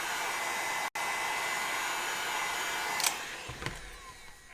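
Steady close-up whoosh of a heat gun softening craft foam for a Soldier 76 costume mask, a continuous airy roar that runs almost throughout, with a brief cutout near the start and faint handling knocks toward the end.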